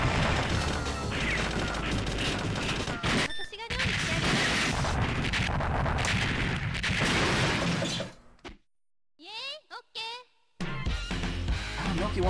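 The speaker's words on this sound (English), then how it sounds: "This boss is kind of annoying, so time to start using some rockets." Rockets fire in the arcade shooter Shock Troopers during a boss fight, a loud, dense barrage of blasts, crashes and gunfire-like bursts that drops away briefly into quieter electronic game sounds before the explosions resume.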